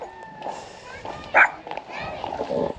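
Small dog barking in a short burst near a roadside stop by Colombia's Chicamocha canyon, a sharp loud yelp standing out amid talk and footsteps.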